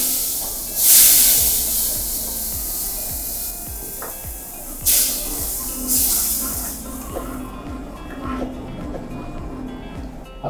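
Water poured into hot oil with spices hisses loudly in sharp bursts, then settles into a steady crackling sizzle that gradually quietens, with soft spoon scrapes against the pan.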